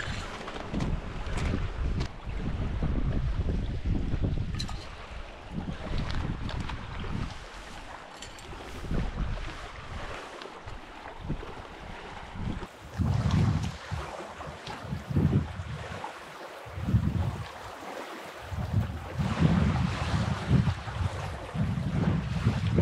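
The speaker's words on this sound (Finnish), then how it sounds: "Mä hetken tosiaan luulin, että tuuli olisi vähän laantunut jo, mutta ei se kyllä." Strong, gusting wind buffets the microphone on a lake during a solo canoe trip on Lake Inari, with a steady roar of wind and water rising and falling in loud surges throughout.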